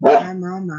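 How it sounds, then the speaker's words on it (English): A pet dog gives one short, loud bark that trails into a held whine, with a voice starting a word over it. "That's my dog doing his thing"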